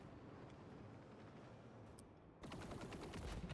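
Rapid gunfire in the Warhammer 40k: Rogue Trader video game, a dense continuous rattle of shots that grows louder and sharper partway through, with no talking.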